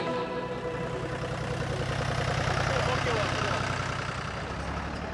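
Tractor loaded with gift boxes idling in Ghana, a continuous low mechanical rumble running steadily throughout with voices over it.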